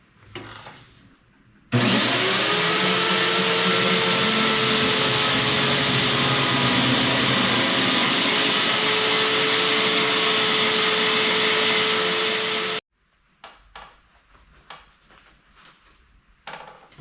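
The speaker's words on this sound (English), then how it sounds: "I'm going to attempt to cut off the input side of this muffler first to see what's inside that side." Power tool cutting into the exhaust muffler of a 2024 Honda Goldwing: a loud, continuous grinding whine with a rising pitched tone lasting about eleven seconds, then cutting off to faint handling clatter.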